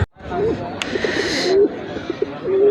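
Pigeons coo softly in a few low, rolling calls amid the background chatter and rustling of a busy weekly pigeon market in Bangladesh.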